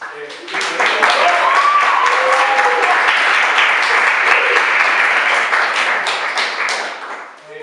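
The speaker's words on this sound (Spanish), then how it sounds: "un buen aplauso por eso" Audience applause during a talk on environmental building in Sierras Chicas, a full, steady wash of clapping lasting several seconds that fades slightly at the end.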